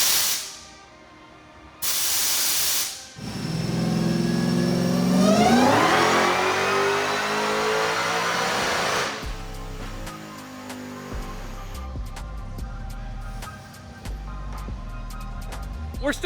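Dodge SRT-10 fitted with a stock-bottom-end Dodge Demon engine on a dyno, supercharged V8 roaring up through the revs with a rising whine, then dropping to a lumpy, loud idle with blips.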